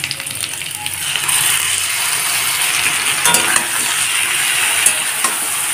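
A spice paste is stir-fried in a pan with fried drumsticks and potatoes, giving a steady sizzle with scraping, clicking stirs of a spatula. It is close, fairly loud and continuous, with no talk.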